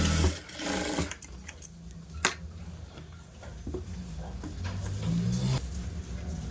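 A sewing machine stitches a blouse lining, running in short bursts with brief pauses and clicks, steady and close, with no talking.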